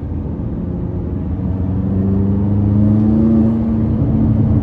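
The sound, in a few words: tuned 664hp McLaren 570S being driven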